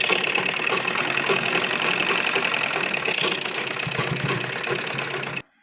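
A sewing machine stitches a fabric seam for a baby's Afghani salwar with a rapid, even mechanical chatter that runs loud and unbroken for about five seconds before stopping abruptly.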